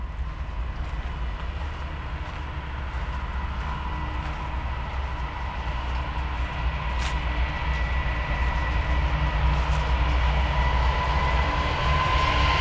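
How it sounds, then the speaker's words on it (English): BNSF train moving through a rail yard, producing a loud, continuous rumble that grows slightly heavier toward the end, with faint wheel clatter over the steady roar. "And here comes BNSF in the yard."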